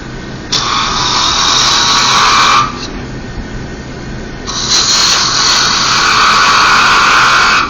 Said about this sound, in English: Just a peeling cut in with the what do you call it? Parting tool.